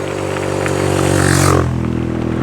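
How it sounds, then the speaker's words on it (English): A motorbike approaches and passes on a gravel trail, its engine drone rising to a loud close peak around the middle before dropping in pitch and fading as it moves away. "Motorbike shouldn't be on this road."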